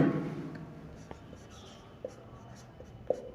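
A pen writing a physics formula on paper, soft scratchy strokes with a few sharp taps, close and quiet with low background hiss and no clear talk.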